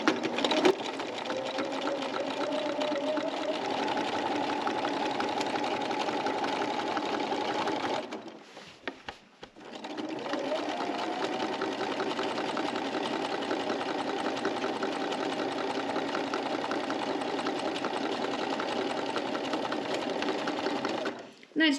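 A sewing machine runs steadily while stitching quilt lines on a quilt-as-you-go block, a continuous mechanical hum with one short pause midway before it resumes.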